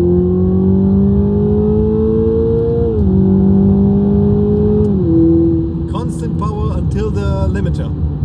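A Toyota Supra with about 1200 HP pulls hard under load, its engine note climbing steadily loud and close, with a gear change partway and voices talking over the roar near the end.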